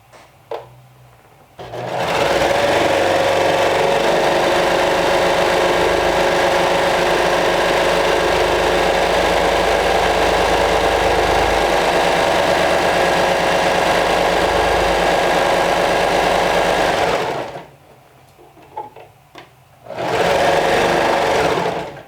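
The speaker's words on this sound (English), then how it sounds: "I'm stitching this with 3/8 of an inch seam allowance." A sewing machine runs steadily and loudly up close while stitching a knit cardigan seam, a continuous mechanical whir lasting about fifteen seconds, then a short pause and a brief second burst of stitching.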